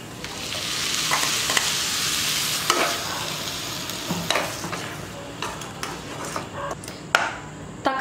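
Tomato purée sizzling in hot oil with masala while being stirred, a dense steady crackle with repeated scraping and clinking strokes of the spoon against the pan, close and fairly loud, no talk.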